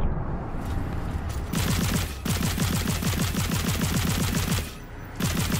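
The Chain Breaker gun in the video game Immortal: Unchained fires in rapid sustained automatic bursts, with dense, evenly spaced shots over a steady low hum and short pauses between volleys.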